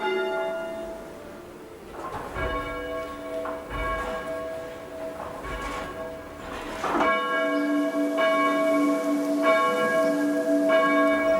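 Church tower bells, five of a ring of six rung in rounds, sound in steady succession, overlapping metallic tones with long ringing decay, striking one after another in an even rhythm.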